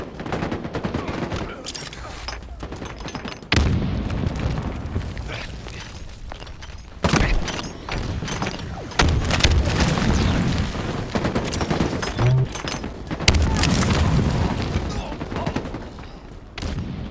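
Halo video game combat: a grenade blast and several heavy booms sound amid bursts of gunfire, while players talk over the action.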